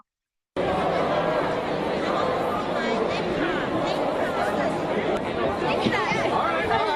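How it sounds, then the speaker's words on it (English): Dense crowd chatter at the H-Lock brand launch event in the US, with many voices overlapping in an excited, continuous babble that starts abruptly after a brief silence. "you can see how the crowd was crazy"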